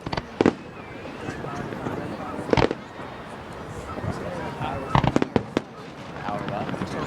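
Fireworks burst at a 4th of July show at Mt. Trashmore, with a few loud booms spaced across the crackling crowd ambience while people talk and react nearby.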